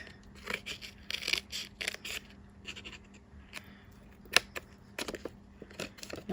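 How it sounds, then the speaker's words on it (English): Scissors snip repeatedly through paper, a series of short crisp cuts close by with quiet pauses between them. "Didn't cut quite far enough."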